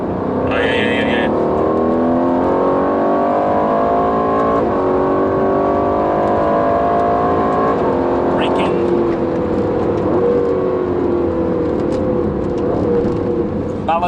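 A 2018 Aston Martin Vantage engine drones loudly and steadily on a race track, with gear changes and braking shifting the pitch up and down over a continuous roar.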